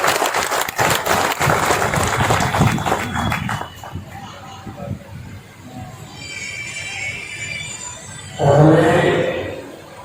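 Applause welcoming the Prime Minister at a virtual Durga Puja inauguration in West Bengal: dense clapping for several seconds that fades into a host speaking over the hall, with a brief swell of sound near the end.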